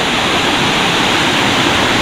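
Katika waterfall roaring as one loud, steady wash of broadband noise, close and unbroken, with no voices over it.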